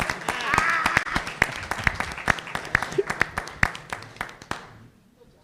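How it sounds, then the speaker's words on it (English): Attendees at a school board meeting give a round of applause, starting as a brief crowd wash that quickly thins into a few distinct, close, rhythmic claps before stopping, with some voices murmuring beneath. "let's give them a round of applause"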